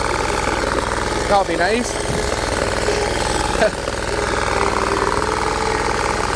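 A Bolens 1600H garden tractor engine idles steadily and close by in a yard, a continuous mechanical drone with a knocking, jackhammer-like texture, while a person speaks briefly over it.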